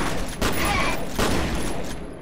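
In F.E.A.R., booming shotgun blasts go off close by, a couple of heavy reports amid a dense, noisy firefight wash, with speech mixed in.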